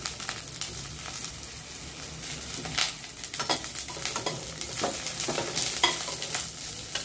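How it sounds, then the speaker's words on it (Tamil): Onions sauté in a pan for white sorghum upma, giving a soft, steady sizzle broken by repeated scraping and clinking of a spoon as they are stirred, close by and moderately loud. "வெங்காயம் நல்லா வதங்கி வரட்டும்."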